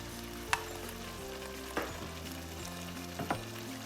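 Kale fries in a pan, its quiet steady sizzle broken by three distinct scraping stirs of a utensil against the pan, close by and with no talking.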